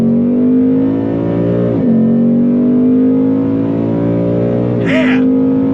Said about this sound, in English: That V8 sound is worth the price of admission.